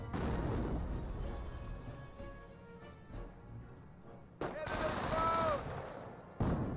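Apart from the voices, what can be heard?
landmine detonation and gunfire in video game Company of Heroes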